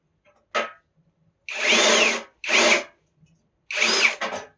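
A power drill bites into a rivet head on a car body panel in four short bursts, loud and close, each a rising metallic whine with brief silent pauses between.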